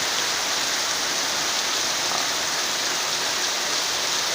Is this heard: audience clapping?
no